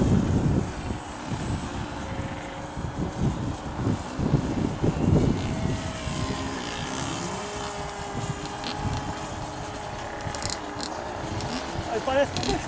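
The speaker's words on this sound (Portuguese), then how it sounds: "E a vantagem desse avião é que ele não precisa de muito field para voar." A radio-controlled model airplane flies over a small field on a windy day, its propeller engine buzzing steadily at a distance beneath gusting wind noise, with people talking throughout.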